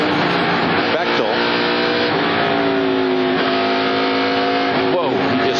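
A NASCAR Busch Series race car engine at the O'Reilly 300 revs and throttles, with rising and falling whines from passing cars layered over a constant roar of the field.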